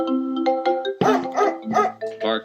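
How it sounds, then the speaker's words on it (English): A dog barks four or five times in quick succession, loud and close, in short tonal bursts with brief gaps between them. "Barked the dog."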